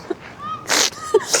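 A sneeze from someone with a pollen allergy on a Paris walk: a short, sharp nasal burst standing out from a quiet background, with a second brief burst of breath noise near the end.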